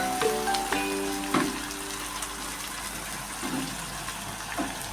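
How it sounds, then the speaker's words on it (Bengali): Onions frying in a pan as ginger, garlic and green chili paste go in, a steady close sizzle with clinks and stirring knocks over low hiss. "পেঁয়াজটা আমার ভাজা হয়ে গেছে এখন দিয়ে দেবো আদা রসুন এবং কাঁচা লঙ্কা পেস্ট ভালো করে মিক্সড করে নেবো এবং কষিয়ে নেবো ভালো করে"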